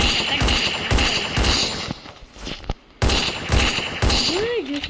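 Rapid automatic gunfire in a shooting video game, loud dense volleys in several bursts with a short lull in the middle, and a voice briefly heard near the end.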